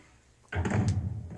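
Door in the Resident Evil Remake game swinging open and shut: a single solid thunk that starts abruptly after a moment of near silence, then a brief rumbling tail, fairly close and clear.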